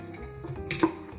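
Pinto beans are stirred in a pot, giving a couple of quick metallic scrapes and a light clink of a utensil against the pot, close and fairly quiet.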